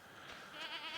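A goat on a farm in the video game Stardew Valley gives one short wavering bleat, quiet and unaccompanied by speech.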